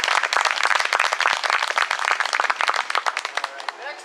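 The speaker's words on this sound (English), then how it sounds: "Let's give him a round of applause here, guys." An audience at a scout court of honor applauds a new Eagle Scout with a dense burst of clapping that thins out toward the end.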